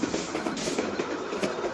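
A train in the video game Train Simulator Bangladesh rolls along with a steady, moderate rumble and faint, regular clacking of wheels, with no voices.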